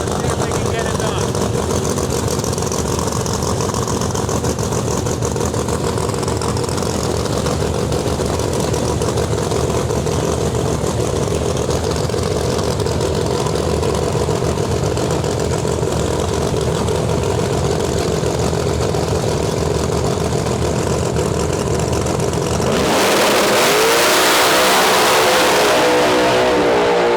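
A Pro Mod back deck Corvette drag car from Puerto Rico runs its engine at a drag strip, a steady loud roar with revving that holds for most of the span, then cuts to a harsh broadband burst near the end, with crowd and announcer voices underneath.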